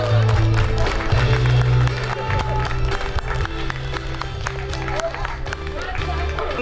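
Crowd applause at a rural gateball and ground golf tournament awards ceremony, sustained clapping from a gathered audience with voices talking over it and background hubbub.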